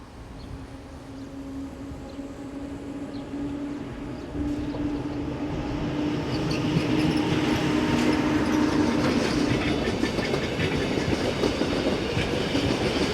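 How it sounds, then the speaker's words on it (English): Swiss railway locomotive number 612 pulls a passenger train out of St. Moritz station toward Landquart with a steady rumble and rhythmic clickety-clack of wheels, growing louder as it gathers pace close by. "we see number 612 departing with the 1647 from St. Moritz to Landquart"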